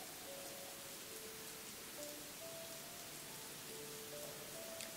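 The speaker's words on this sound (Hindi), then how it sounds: "बारिश बहुत हो रही थी" Heavy rain falling steadily in a Hindi Christian film scene, a continuous broadband hiss with faint tonal music underneath, no talk.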